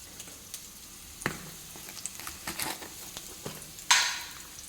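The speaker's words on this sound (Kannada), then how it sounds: "ಒಂದು ಸ್ವಲ್ಪ ಈರುಳ್ಳಿ ಜೊತೆ ಉಪ್ಪು ಹಾಕಿ ನಾನು ಹುರ್ಕೊಳ್ತೇನೆ" Chopped onions and salt hit a hot pan with scattered close crackles and sizzling spurts, plus a few sharp utensil taps and one louder hiss near the end.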